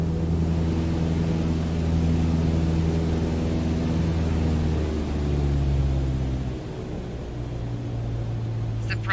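An airplane engine in Microsoft Flight Simulator 2020 drones steadily, then its tone drops and thins partway through as all power is cut, leaving a lower, quieter hum with rushing air.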